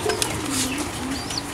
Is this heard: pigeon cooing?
yes